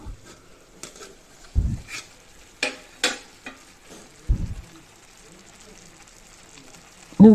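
Mint corn rice being stirred in a pot with a spoon, giving sparse scrapes and soft knocks at irregular intervals over a quiet background, with no talk.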